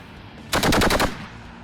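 A short, rapid burst of about six shots from an AMX-10P's automatic cannon, rated at 700 rounds per minute, loud and close, ringing out over a faint background hum.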